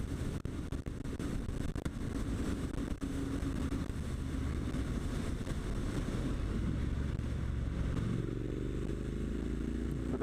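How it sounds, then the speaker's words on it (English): A Triumph Street Scrambler's 900cc engine works hard under load, a continuous gritty drone mixed with heavy wind buffeting and clatter, with engine tones rising in pitch toward the end as the revs climb. "That 900cc engine working extremely hard"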